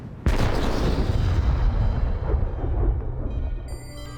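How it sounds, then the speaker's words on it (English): A culverin cannon fires a single sudden, loud blast, followed by a long rumbling roar that slowly fades over several seconds. "The culverin's opening shot is well over a quarter of a mile"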